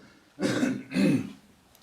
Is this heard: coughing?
yes